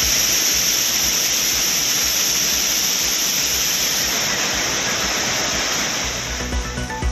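Courtallam waterfalls in flood roar as a dense, steady broadband rush of falling water, loud and unbroken from start to finish with no voices.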